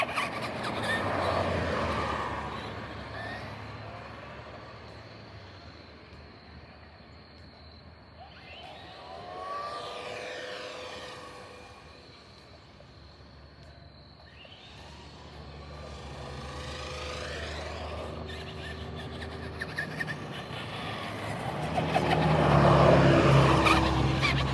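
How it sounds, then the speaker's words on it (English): Fast RC car capable of about 25 to 30 mph racing past outdoors, its whining electric motor rising as it approaches and fading as it passes, followed by another buzzing pass that swells loudly near the end, with no talk. "Wait for this car to go by."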